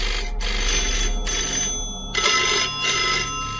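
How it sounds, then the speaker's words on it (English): Old-fashioned telephones ring inside a disused control tower at RAF East Kirkby, sounding in repeated bursts of bright electric bell trilling separated by short pauses, fairly close and alone. "walking around, hear the telephones going. They've got old-fashioned telephones in there"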